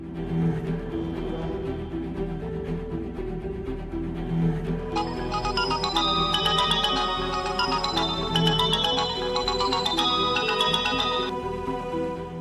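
A phone left at home rings with an electronic melodic ringtone, bright repeated chiming notes that grow fuller partway through and continue steadily over a low background hum, fairly close and clear.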